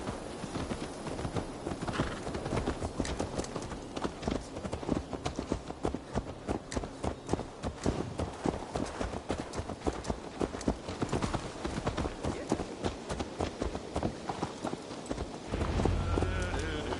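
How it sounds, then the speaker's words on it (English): Horse hooves clip-clop steadily in Assassin's Creed Valhalla on PS4 Pro, a continuous rhythmic run of hoofbeats layered with game music and ambience, with talk partly over it. "Let's return the horse."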